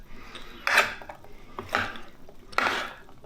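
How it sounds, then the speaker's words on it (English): Griddled potatoes being tossed in a bowl that is far too small, giving three separate bursts of scraping, clattering utensil-on-bowl mixing, close and fairly quiet, with pauses between. "let's mix this all up in a bowl that's much too small for it"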